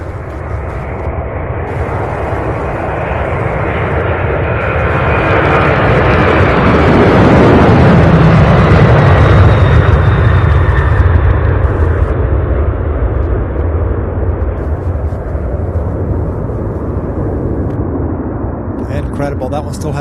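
A 25-year-old UPS cargo jet takes off at Louisville airport with a sustained, loud roaring rumble that swells toward the middle and slowly fades while staying present, with someone talking over it.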